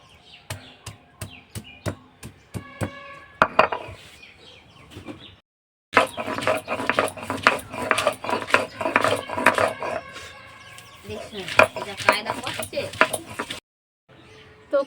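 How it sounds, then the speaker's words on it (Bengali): Ginger, garlic, peppercorns and a little onion crushed on a traditional grinding stone, giving close, rhythmic knocking and scraping strokes in quick bursts, broken by a short silent pause midway. "আদা রসুন এগুলো আমি বেটে নিচ্ছি।"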